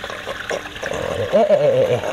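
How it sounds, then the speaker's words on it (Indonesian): Water runs from a tap into a tank of tubifex worms, a steady close trickle with bubbling, gurgling tones rising toward the end. "Nih, jadi dibikin juga keran untuk nambahin air."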